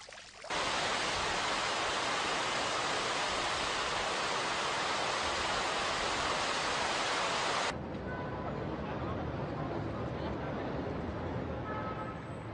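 Water pours steadily from the Fuente del Negrito, an old public fountain in Valencia, as a loud, continuous rushing splash that shifts abruptly to a softer, duller flow partway through.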